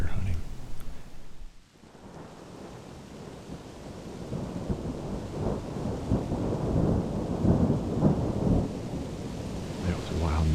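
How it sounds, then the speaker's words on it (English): Rain falls steadily during a November thunderstorm on farmland in deer season, with low rolling thunder swelling and fading under the continuous downpour, heard outdoors and fairly distant. "Not often do you hear a thunderstorm in the middle of November while out deer hunting."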